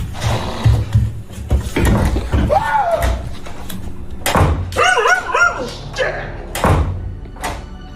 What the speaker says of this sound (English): alarming their dog who's barking at the threat violently off camera